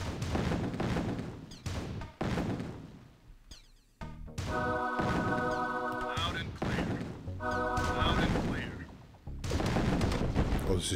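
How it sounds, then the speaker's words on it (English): Gunfire and explosions in the video game Command and Conquer: Tiberian Sun come as loud, dense bursts of shots and booms, broken by brief pauses, with some ringing tonal effects between volleys. "Stop shooting at me!"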